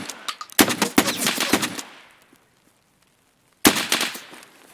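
Gunfire in Escape from Tarkov on the Shoreline map, likely a shotgun: a dense, loud burst of rapid shots, a pause of near silence, then another close burst.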